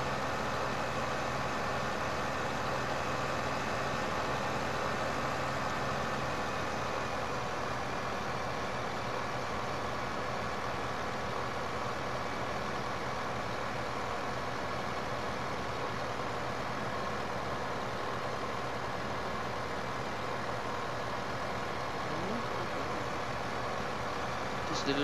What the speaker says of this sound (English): This little tractor is struggling, it's a Hurleyman, it's a 90